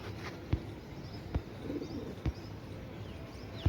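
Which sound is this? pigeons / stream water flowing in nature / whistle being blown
pigeons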